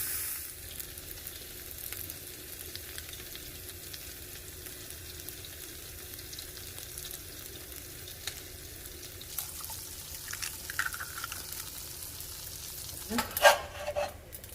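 Onions sauté in a pan with a soft, continuous sizzle throughout. A few clinks and scrapes from stirring become louder toward the end.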